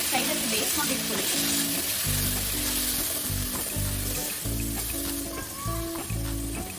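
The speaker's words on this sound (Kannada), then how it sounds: "ಸೊಪ್ಪನ್ನು ಆ್ಯಡ್ ಮಾಡಿಕೊಂಡು ಹಸಿ ವಾಸನೆ ಹೋಗೋ ತನಕ ಸ್ವಲ್ಪ ಚೆನ್ನಾಗಿ ಹುರ್ಕೊಳ್ಳಿ" Spinach being sautéed in a hot pan for a moong dal and palak curry, with a steady close sizzle and repeated scraping stirs that come in rhythmic bursts throughout.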